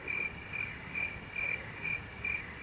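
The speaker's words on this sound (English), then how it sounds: "Nothing but crickets." Crickets chirp in a regular pulsing rhythm, about six evenly spaced bursts of shrill trills over a faint quiet background, used as a comic sound effect for awkward silence.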